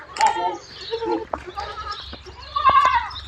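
A young goat kid on a goat farm bleats in short, close, wavering calls, with about three distinct bleats spread across a few seconds and quieter rustling between them.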